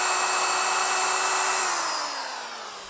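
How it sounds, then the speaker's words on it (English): A power drill bores a tap hole into a maple tree outdoors, a steady close whine that holds level and then slowly drops in pitch and loudness as the bit works into the wood. "So now we're gonna tap the other side of this tree."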